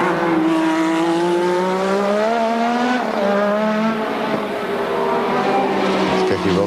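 A 1986 Formula 1 car in Australian Grand Prix qualifying accelerates through a twisty section, its high, buzzing engine note rising and then falling through gear changes, loud and close with only faint background sound.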